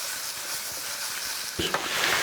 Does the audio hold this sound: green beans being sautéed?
yes